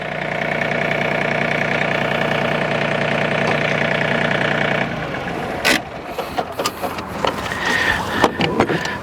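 A John Deere 3032E compact tractor engine idles with a steady, close diesel rumble for about five seconds, then shuts off, leaving clanks and knocks of handling.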